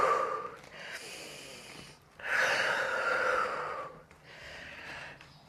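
Slow, deep breaths during a yoga session, each long inhale and exhale drawn audibly close to the microphone in a few separate cycles with short quiet gaps.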